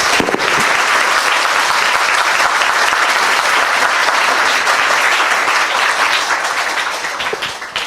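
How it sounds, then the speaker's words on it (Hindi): A church congregation bursts into loud, sustained applause, dense clapping from a large crowd that holds steady for several seconds and then begins to taper off. "आइए खुदा के लिए एक जोरदार ताली बजाएंगे आज।"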